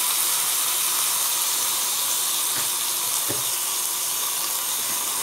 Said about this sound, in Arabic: ومعانا البرجر هنحطه على النار